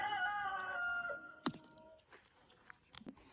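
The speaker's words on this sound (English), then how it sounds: "Just had to get away from that rooster." A nearby rooster finishes a long, loud crow that trails off, leaving a quiet outdoor backdrop with a few soft clicks and rustles.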